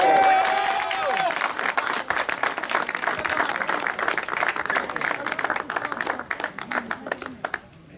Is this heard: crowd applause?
yes